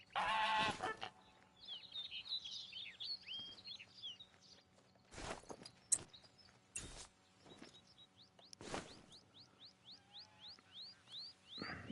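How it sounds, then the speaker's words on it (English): Geese honking in a quiet outdoor spot, with a few loud bursts, short chattering calls and a run of rapid repeated honks, plus soft footsteps and scattered clunks between them. "let's see if we can get these geese down here"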